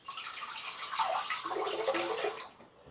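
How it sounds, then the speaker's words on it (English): Water runs steadily over a safety razor blade as soap is rinsed off, a close, continuous splashing rush lasting a few seconds before tapering away. "So there's a little bit of soap on the blade, so I can just rinse that off."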